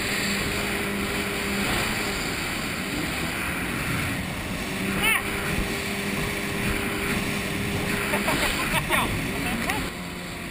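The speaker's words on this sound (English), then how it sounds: "All right, here's full throttle." A motorboat on Shasta Lake runs at full throttle, its engine a steady, loud drone mixed with wind buffeting the microphone and rushing water for the whole stretch, while people on board whoop and call out over it.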